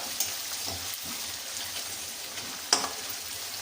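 Peanuts, chana dal and urad dal frying in hot oil in a pan for capsicum lemon rice, giving a faint, steady sizzle with a couple of brief stirring clicks and no talking.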